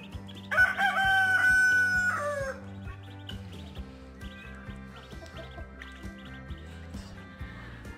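A rooster crows loudly and close by in one long call, with chickens clucking around it and a steady low mechanical hum underneath, during an animal tour on a farm.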